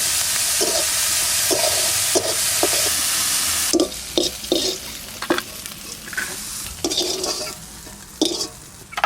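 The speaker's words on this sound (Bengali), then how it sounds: "এবার চিংড়ি মাছ করা ভেজে নেব" Prawns fry in hot oil in a wok, a steady close sizzle broken by scraping stirs and clattering strokes of a utensil against the pan.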